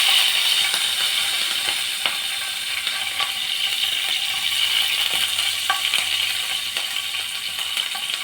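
Steady, close frying sizzle in a pan with green chillies, a dense hiss running continuously for several seconds with faint stirring clicks and no talk.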